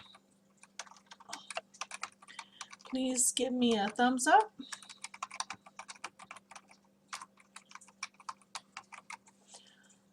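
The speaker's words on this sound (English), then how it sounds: "I'm gonna type down here in my chat when you hear me." Typing on a computer keyboard during an online class on oral cancer, a run of quick light clicks close to the mic, broken briefly by a spoken line before the tapping resumes.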